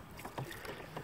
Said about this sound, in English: I'm trying to paddle one-handed as well.